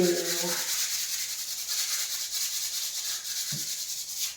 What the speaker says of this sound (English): do a wee bit more sanding